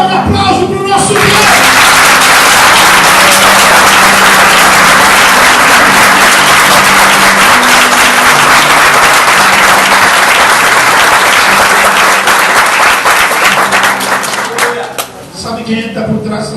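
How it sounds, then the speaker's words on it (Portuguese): A church congregation breaks into loud, dense applause that swells quickly and holds steady for most of the stretch, with voices and cheers mixed in, then tapers off near the end. "Vamos dar um aplauso para o nosso Deus."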